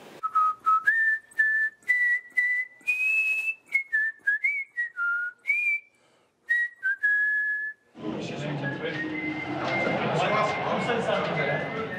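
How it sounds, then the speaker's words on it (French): A man whistles the tune of La Marseillaise, a clear, loud melody of sustained notes and short phrases that stops after about eight seconds, followed by a broad roar of crowd noise. "Le mec, il sifflait la Marseillaise"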